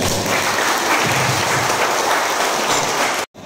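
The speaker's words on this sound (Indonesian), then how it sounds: "Tepuk tangan dulu buat kita" An audience at an umrah seminar breaks into applause, a dense, loud burst of clapping from many hands that holds steady before cutting off abruptly near the end.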